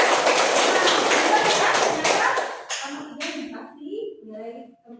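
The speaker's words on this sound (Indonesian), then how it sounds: "tepuk tangan untuk temannya" A class of children clapping together for a classmate in a classroom: a dense, loud burst of applause that fades out after about two seconds, then a voice speaking.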